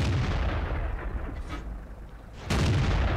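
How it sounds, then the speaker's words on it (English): A heavy tank cannon fires twice in World of Tanks, each blast a sharp boom with a rumbling decay; the second shot lands louder and closer. "if you can hear the cannon sounds, they've actually been updated from patch 8"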